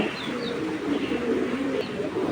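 A big red patti pigeon pair, male and female, coos softly and continuously close by with low rolling calls and a faint chirp.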